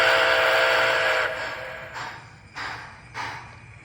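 A steam whistle on an MTH Nickel Plate Road model train sounds loudly, one long blast followed by three shorter evenly spaced toots, with a soft mechanical rumble of the running locomotive underneath.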